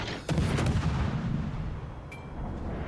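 Naval gunfire in World of Warships Legends: a heavy, booming salvo kicks in near the start, then a dense low rumble rolls on for the rest of the stretch, with a brief sharp click partway through.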